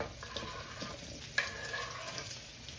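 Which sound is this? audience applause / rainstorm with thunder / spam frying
spam frying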